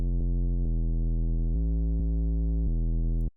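Low bass synth tone from Serum with oscillator A dropped two octaves, a steady harmonic-rich sustained note with small level shifts, played alone for about three seconds before cutting off.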